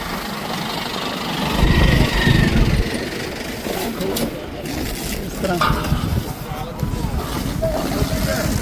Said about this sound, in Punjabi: ਇਹ ਜਿਹੜੇ ਟਰੈਕਟਰ ਲੈ ਲੈ ਕੇ ਪਹੁੰਚ ਰਹੇ ਨੇ